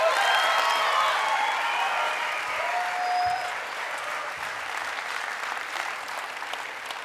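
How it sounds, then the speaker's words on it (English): A concert audience gives full applause after a band's first set. Dense clapping fills the room at first, then slowly thins and fades a little while the crowd keeps clapping. "how about a round of applause for a great first set?"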